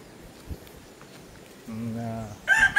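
In a newly built coop, a rooster gives a crow partway through, and a second bird's call follows near the end over faint background noise.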